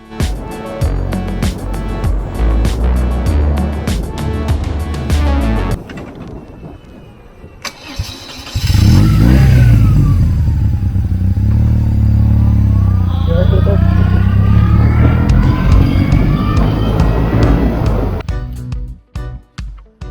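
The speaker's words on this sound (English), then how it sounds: "she sounds a bit raspy actually" An old BMW cruiser motorcycle, unused for two years in an underground garage, cranks and starts, then runs loud and raspy with rising and falling revs before cutting off; other mechanical noise comes first.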